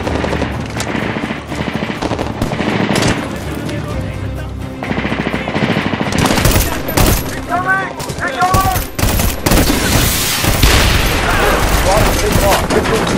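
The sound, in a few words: gunfire in the video game Medal of Honor: Warfighter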